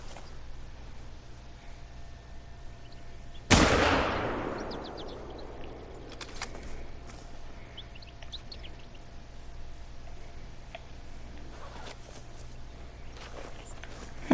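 A single loud gunshot from a hunt in the Rockies, a sharp crack with a long rolling echo decaying over a couple of seconds, followed by quiet outdoor ambience with faint bird calls.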